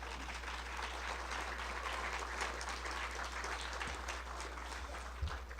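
An audience applauds after a talk on eagles and rabbits as predator and prey, a steady, even wash of clapping heard from a distance over a low hum.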